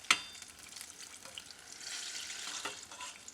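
Apple fritters frying in hot oil, a soft steady crackle and hiss with a sharp spatter at the start and small pops scattered through, fairly faint and alone.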